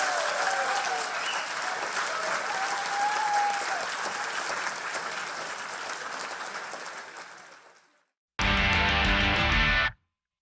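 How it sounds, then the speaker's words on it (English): A studio audience on Richard Herring's comedy show gives loud, sustained applause for Professor Lance Workman for about eight seconds; it fades out and is followed by a short burst of music. "please give a massive round of applause to Professor Lance Workman"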